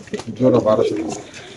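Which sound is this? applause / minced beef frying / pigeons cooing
pigeons cooing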